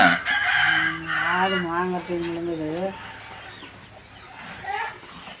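A rooster crows loudly up close, a long drawn-out call, followed by faint clucking and scattered noises.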